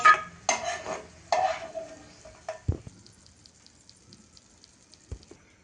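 Peanuts fry in a pan as a spatula stirs and clatters through them in several quick, loud scrapes, before the activity fades to a soft, faint sizzle with occasional light taps.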